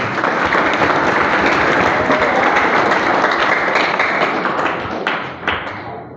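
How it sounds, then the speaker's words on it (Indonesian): A school audience applauds its teachers at a halal bihalal gathering: dense, steady clapping from many hands, loud and close, holding for about five seconds before tapering off. "Beri tepuk tangan kepada beliau semua"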